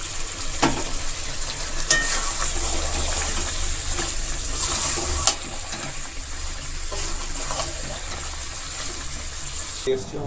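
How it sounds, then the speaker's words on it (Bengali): Chicken cooks in a pan as fried potatoes are added, giving a steady sizzle broken by scraping stirs and a few sharp clinks of a utensil against the pan. "চিকেনটা প্রায় কষানো হয়ে গিয়েছে এখন ভেজে রাখা আলুগুলো দিয়ে দিলাম"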